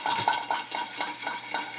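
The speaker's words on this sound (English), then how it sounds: "You want it to sizzle. That's a nice sizzle." Chopped garlic hits hot oil in a pan, giving a steady bright sizzling hiss with soft rhythmic pulses, close and moderately loud with no talking.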